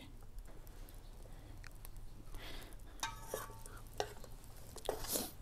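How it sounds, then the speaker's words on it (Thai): Thai Chinese sausage (kunchiang) frying outdoors in a pan, a soft crackling sizzle with quiet stirring scrapes and a few brief clinks, fairly faint. "กุนเชียง ทอดไป"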